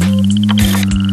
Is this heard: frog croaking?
yes